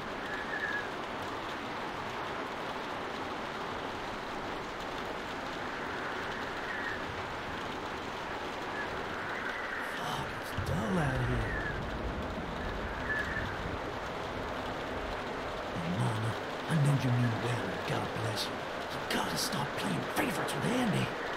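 Steady rain falls outside a barn in The Walking Dead Season 1 Episode 2 game, a constant soft wash under the whole stretch, with game characters talking over it and a few thumps and movements.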